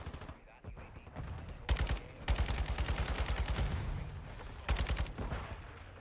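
RPD light machine gun with a 100-round magazine firing in Modern Warfare 2, several rapid automatic bursts with short pauses between them, fairly close, with a voice talking over parts of it.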